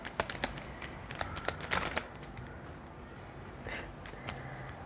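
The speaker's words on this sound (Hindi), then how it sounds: "One more shuffle" A deck of tarot cards is shuffled close by in quick riffling bursts of crisp clicks and flutters, followed by quieter handling of the cards.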